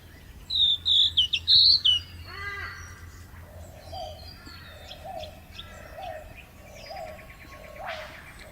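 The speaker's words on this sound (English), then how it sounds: "Hear the whipbird?" Birdsong rings out in an outdoor setting, opening with a few loud, sharp high whistles close by, then softer repeated calls and chirps. A final rising whip-like sweep comes at the end.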